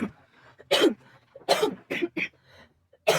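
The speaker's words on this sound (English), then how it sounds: "Start coughing." Several sharp coughs in separate bursts, close and fairly loud, with quiet pauses between them.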